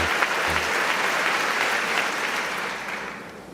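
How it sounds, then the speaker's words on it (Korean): A standing ovation fills the US Congress chamber, dense steady clapping from a large audience that gradually thins and fades toward the end. "기립박수가 계속 나오고 있습니다"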